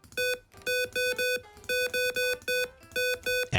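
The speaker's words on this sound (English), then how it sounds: "And now it's replicated by the buzzer." A buzzer on a DIY fidget toy beeps out an entered sequence in clear electronic tones, close and alone, with short and longer beeps grouped in uneven bursts separated by brief gaps.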